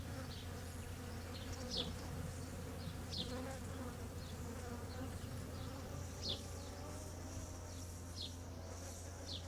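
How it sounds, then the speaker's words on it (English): Bees drone steadily beneath a Rosa mulliganii rose canopy in an English garden, a continuous low hum with individual insects passing close by now and then. "taking you underneath this magnificent canopy of Rosa Mulliganiae to hear the bees sing the praises of this most beautiful"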